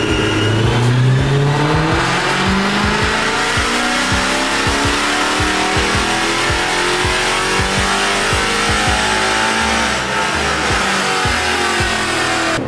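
Mercedes C63 AMG held at full throttle on a dyno, its engine revving hard and climbing in pitch in repeated sweeps. Loud and close, with sharp rhythmic pulses and a roaring exhaust throughout.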